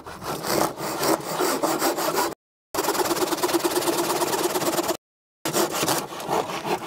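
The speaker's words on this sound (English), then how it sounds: "the Roamwild Multi-Pull Saw Pro is 3 to 5 times faster than a conventional hand saw" A Roamwild Multi-Pull Saw Pro pull saw cuts through wood in fast, rhythmic, rasping strokes, loud and close, broken by two short silent gaps.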